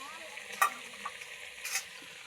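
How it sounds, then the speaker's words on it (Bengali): Fried potatoes are stirred into mutton curry in a pan, a soft low sizzle with two brief scraping stirs, close and quiet with no talking. "এবার খাসির মাংসটার মধ্যে আলু দিয়ে দিচ্ছি ভেজে রাখা আলু"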